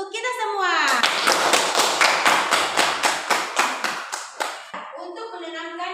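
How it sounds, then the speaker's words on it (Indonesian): Audience applause from a classroom group, a burst of many hands clapping in a steady, fairly loud rhythm for several seconds before fading, with a voice speaking at the start and end. "berikan aplaus untuk kita semua"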